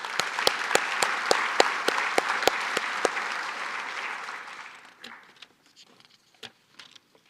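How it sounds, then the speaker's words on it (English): A crowd applauds at a 2025 veterans recognition ceremony honoring an Army sergeant, with steady clapping that thins out and fades, leaving a few scattered late claps. "how about a round of applause?"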